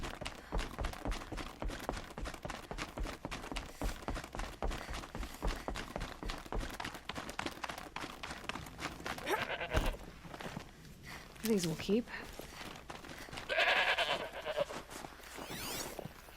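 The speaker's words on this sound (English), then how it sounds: "Some random goats." Goats bleat in Horizon Zero Dawn, a couple of short wavering cries rising midway through, amid game sounds, footsteps and a player talking.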